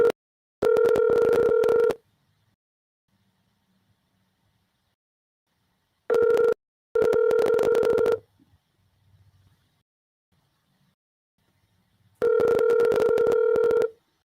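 An outgoing phone call to a freight carrier rings out as a ringback tone, three long electronic rings separated by silence, the middle one split into a short double burst, clear and close.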